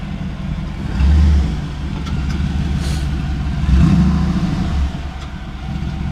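A vehicle with dual exhaust drives with a low, steady engine rumble that swells louder twice, near and continuous, with no voices.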